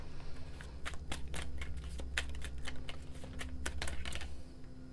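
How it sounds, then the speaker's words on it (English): Tarot cards riffled and shuffled in rapid bursts of crisp, close clicks and flutters, repeating steadily over a low background hum without talk. "so let's just keep shuffling."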